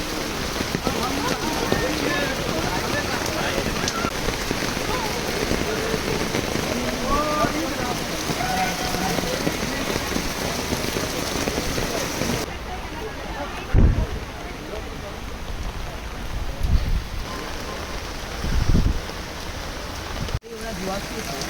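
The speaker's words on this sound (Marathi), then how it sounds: "पाऊस पडतोय." Rain pours steadily at a hillside temple math near a waterfall, a dense hiss for most of the stretch, then lighter and quieter with a few close bumps and thuds.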